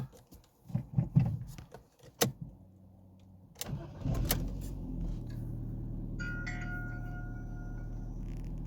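A Ford Fiesta 1.4 petrol engine, just repaired for an intermittent bad idle, cranks and catches after a few handling clicks and knocks, then settles into a steady, close idle with a faint high whine.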